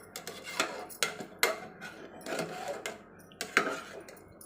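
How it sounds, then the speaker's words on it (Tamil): A metal spoon stirring paruppu payasam in a cooking pot, with irregular clinks and scrapes against the pot at close range, fairly quiet, with no speech. "நம்ம பாயாசத்தில் தண்ணியை ஊற்றி கிண்டி ஒரு கொதி விடலாம்"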